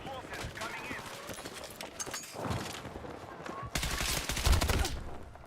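Rapid bursts of unsuppressed gunfire from teammates in the shooter game Battlefield 6, loud and close. Shots crackle in clusters through the clip, with a heavier volley near the end.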